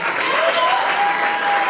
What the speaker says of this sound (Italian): Un altro applauso anche a Dario Serpan.